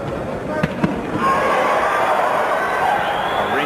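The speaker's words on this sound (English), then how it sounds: "Ringside microphones pick up the thudding of De La Hoya's body punches." Body punches thud at ringside during a professional boxing match between Oscar De La Hoya and Darryl Tyson: two sharp, close thumps early on, then a steady wash of crowd noise.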